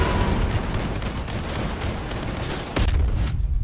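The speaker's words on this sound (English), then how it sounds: "Oh, I'm getting shot in the back." Continuous heavy gunfire and impacts hit a player's vehicle in the Crossout combat game, a dense, loud barrage that holds steady throughout and ends in one sharper blast near the close.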